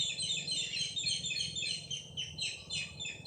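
Wild birds call and chirp continuously in the open, with overlapping high tweets layered through the whole stretch and no voices.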